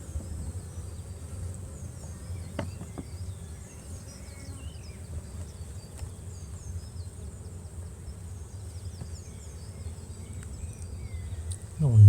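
Honeybees hum softly from an opened overwintered brood-and-a-half hive, a faint low steady drone with a few brief clicks and a louder knock at the end.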